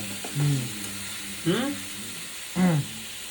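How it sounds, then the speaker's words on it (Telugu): Paneer lightly frying in a pan, a steady soft sizzle running beneath three short bursts of voiced talk. "మనం జస్ట్ పన్నీర్ని లైట్ ఫ్రై చేస్తున్నాం అంతే"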